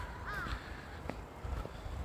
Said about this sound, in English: The crows are laughing at me.